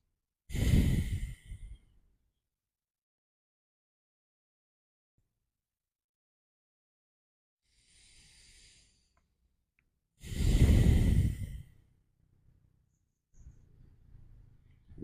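Slow, deep breaths during a gentle stretching relaxation: two full, close inhale-exhale sweeps with fainter breaths in between, separated by long stretches of near silence.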